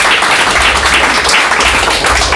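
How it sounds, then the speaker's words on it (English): A small audience at a talk on licensing and local authorities claps in a short, loud burst, the dense patter of hands filling the whole moment without pause. "I think that deserves a small round of applause"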